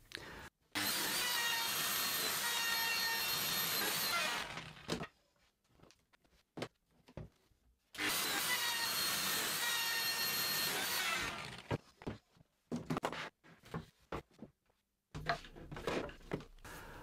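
A Lamello biscuit joiner machines the edges of cabinet plinths in a workshop. Two sustained, loud whining cuts of about four seconds each are separated by quieter clicks, knocks and handling of the wood pieces.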